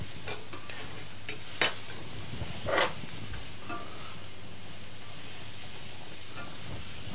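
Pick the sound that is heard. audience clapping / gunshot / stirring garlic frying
stirring garlic frying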